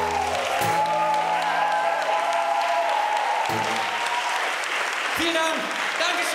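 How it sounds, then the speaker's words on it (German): An audience at a live song event in Leverkusen applauds in a loud, sustained wash of clapping, with scattered voices and some cheering mixed in. "Dein Applaus."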